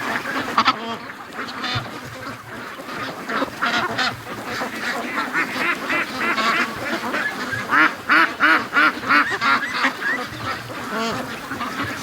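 Free-range ducks, one with a crooked wing, make a dense, close chorus of overlapping quacks that runs steadily throughout, with louder bursts near the end.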